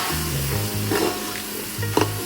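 Charcoal set into vegetable biryani to smoke it sizzles and hisses steadily up close, with a low hum underneath and a brief clink near the end.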